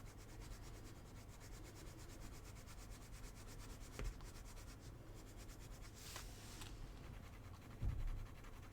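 Colored pencil scribbles steadily across paper in quick, dense back-and-forth strokes, close and soft, with a few small knocks and a brief louder scratch burst.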